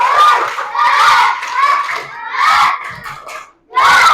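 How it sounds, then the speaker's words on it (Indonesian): A class of schoolchildren loudly chants a rhythmic clapping cheer together in a classroom, their voices rising in several bursts with brief claps mixed in and a short pause before the last shout. "Sekarang berikan tepuk good buat Manggala."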